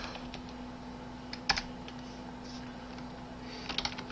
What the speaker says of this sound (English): my keyboard likes to hit enter twice when I hit it once